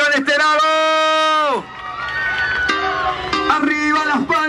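A concert crowd of girls screams and cheers, a sustained loud wave of shrieking voices that swells after a man's drawn-out shout over the sound system.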